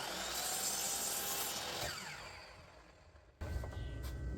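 A miter saw cuts through wood for a farmhouse table, a loud whirring rasp that fades and winds down, followed by a sharp knock as the piece is handled, close and without talk.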